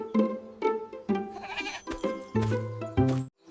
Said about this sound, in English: A goat's baby is a kid.